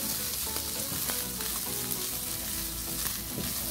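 Bacon and calabresa sausage fry loudly in a pan, a dense continuous sizzle with crackling pops and occasional stirring scrapes, close and steady throughout.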